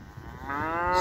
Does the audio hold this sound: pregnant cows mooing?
yes